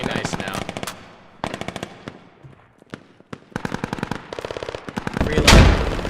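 A PKM machine gun firing in the tactical shooter Squad, loud close bursts of rapid automatic shots in several strings separated by short pauses, ending with a heavy booming impact.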